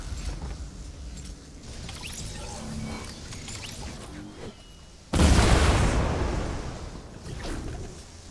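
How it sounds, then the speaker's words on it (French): In a video game, after a stretch of quiet, muffled ambience, a single loud cannon boom bursts out from a pirate ship and trails into a rushing roar that slowly fades. "Là, il y a des canons."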